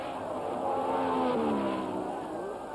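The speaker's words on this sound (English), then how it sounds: "Hill's BRM just catching Clark's Lotus on the line." Racing cars, Graham Hill's BRM and Jim Clark's Lotus, sweep past at Silverstone in the 1960s with a blaring engine note that swells and shifts pitch as they pass, heard through an old, slightly muffled recording.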